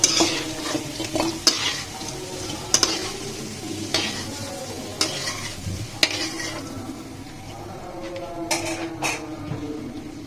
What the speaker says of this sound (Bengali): এভাবে ভেজে নিতে হবে।